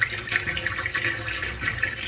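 Water gushes steadily out of the drain hose of a repaired Panasonic manual washing machine, a continuous splashing, gurgling flow that holds an even loudness throughout.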